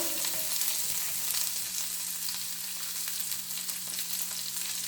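Chicken pepper fry sizzles in a pan, a loud, continuous frying hiss with faint stirring and no talk over it.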